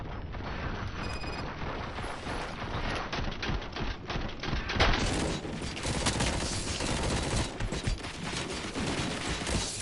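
Sustained gunfire from the RoboCop video game, a dense, loud fusillade of rapid shots running the whole stretch with booming impacts mixed in and no pauses.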